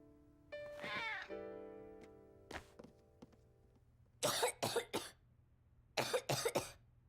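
A cartoon child coughs in two clusters of sharp, rapid coughs after a musical sting and a few soft thumps, with quiet pauses between.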